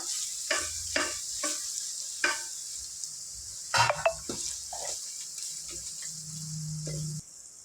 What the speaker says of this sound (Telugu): అల్లం వెల్లుల్లి పేస్ట్ పచ్చివాసన పోయేంత వరకు చక్కగా ఫ్రై చేసుకోవాలి